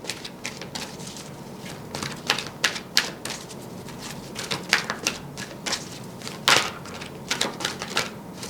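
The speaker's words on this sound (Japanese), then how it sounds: "ちょっと最後にもう一枚引かせてください。" A tarot card drawn from a deck, a run of soft, uneven papery taps, flicks and shuffles close by, with a sharper snap of a card near the end, no voices.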